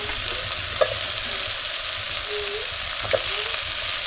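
Jackfruit pieces frying and being stirred in a pan over a wood-fired stove, a steady close sizzle broken by a couple of brief scraping stirs, with no talking.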